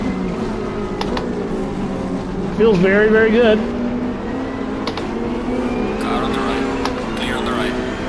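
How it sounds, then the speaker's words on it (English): A race car engine revs in Assetto Corsa Competizione on PS5, another car's engine close by, with a rising and falling motor note that swells briefly. Someone talks over it. "Has a little bit of a different engine note too."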